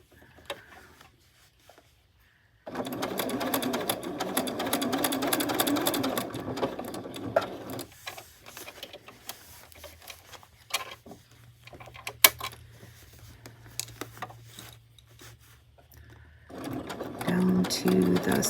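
Home sewing machine stitches fabric for an ice cream cozy in steady rapid bursts of mechanical whirring, pausing and restarting between seams, with occasional clicks and a brief voice in the quiet gaps.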